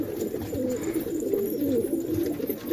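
Racing pigeons being readied for a tournament coo steadily and close by, a constant low burbling chorus with no talk over it.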